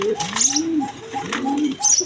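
Quality domestic pigeons coo in soft, repeated low throaty rolls close by, with a few thin higher chirps over them and no talking.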